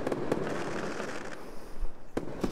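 Fireworks in an Unreal Engine 4 game project burst and crackle, with several sharp pops over a continuous fizzing hiss.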